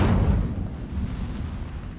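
A fiery blast from the Incendio fire spell in Hogwarts Legacy opens with a loud rumbling burst, then settles into a sustained low roar of flames that continues to the end.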